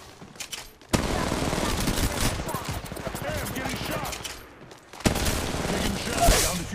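Rapid gunfire in the mobile battle royale game Apex Legends Mobile, dense bursts of shots running almost continuously, briefly easing before a loud fresh volley and a final flurry.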